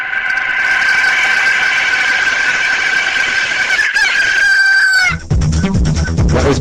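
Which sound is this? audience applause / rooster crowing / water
rooster crowing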